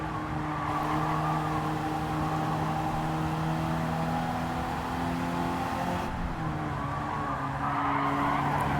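In Gran Turismo 7 on the Nurburgring, a Volvo's tires skid and slide with a sustained squeal over a steady engine drone, continuous and fairly close.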